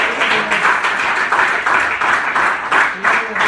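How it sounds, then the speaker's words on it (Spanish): A church congregation applauds together, a strong rhythmic clapping that pulses in steady waves at fairly close range and holds evenly throughout. "eso merece un aplauso al Señor"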